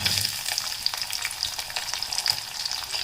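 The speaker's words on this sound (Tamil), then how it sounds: "இப்போ நல்லா கடுகு, உளுத்தம்பருப்பு எல்லாம் பொரிஞ்சிருச்சு. இப்போ வந்து சின்ன வெங்காயம் போட்டுக்கலாம்." Small shallots fry in hot oil with popped mustard seeds and urad dal for Chettinad green chilli mandi, a dense, loud, crackling sizzle that runs steadily throughout with no talk.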